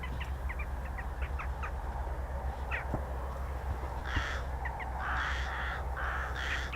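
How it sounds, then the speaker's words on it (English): Crows cawing outdoors at an RAF Coningsby airfield, several harsh caws in short bursts at moderate distance, with other birds calling, over steady low background rumble. "There's a lot of birds here."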